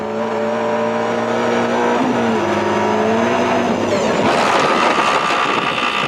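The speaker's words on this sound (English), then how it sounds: "Gearbox and transmission problems combined to make the Escort sound decidedly unhealthy." Ford Escort rally car at the 1995 WRC Rally of Wales GB, its engine droning steadily with shifting harmonic tones, then a surge of rougher revving noise, sounding strained from gearbox and transmission trouble; no voices.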